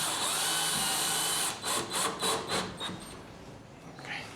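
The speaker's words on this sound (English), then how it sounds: "And fasten one last screw," A power drill runs a screw home during stone countertop and interior trim work in a warehouse rehab, its whir pulsing in short bursts over a steady broadband hiss, fairly close, with no talking.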